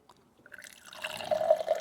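Fresh water runs by gravity from a tank in the rear arch panel of a Land Rover Defender campervan, starting as a few drips and building into a steady, close trickle and splash.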